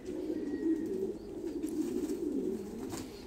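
Thai Titan meat pigeons, breeding pairs, coo continuously in a low, throaty rolling murmur, close and steady with overlapping calls.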